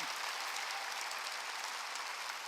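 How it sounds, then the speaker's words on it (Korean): A church congregation at a Sunday worship service claps together in a faint, even, sustained patter of applause, heard from a distance without voices. "박수 치려면 세게 치고 말려면 말고."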